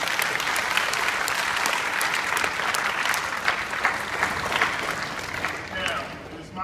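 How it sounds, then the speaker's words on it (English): An audience at a school broadcast applauds, a dense, steady wash of clapping lasting several seconds that thins slightly toward the end, with some voices mixed in. "Please give them a round of applause."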